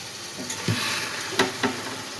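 Spiced masala sautéing in a pan for a Bengali meat-style curry, a steady soft sizzle with a few brief scraping stirs of the spoon, close and fairly quiet.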